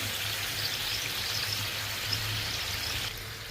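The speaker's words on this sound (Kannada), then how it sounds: "ನೀಟಾಗಿ ಫ್ರೈ ಆಗ್ತೈತಿ ಒಳಸಾಕಿ ನೋಡ್ರಿ ಎಣ್ಣೆ ಒಳಗೆ ಫ್ರೈ ಆಗೈತಿ" North Karnataka karchikai, sweet stuffed dumplings, deep-fry in hot oil with a steady, close, bubbling sizzle that holds evenly and eases slightly near the end, with no talking.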